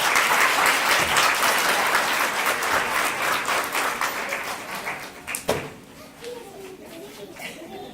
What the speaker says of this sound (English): Can we give our first grade friends a great big round of applause?